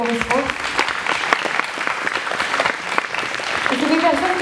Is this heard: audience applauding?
yes